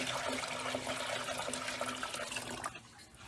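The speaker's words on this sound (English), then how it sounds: "You guys hear that water draining through those weep holes?" Water drains steadily through the weep holes of a tiled shower, a continuous trickling wash that stays fairly even and then thins out near the end, with no voices.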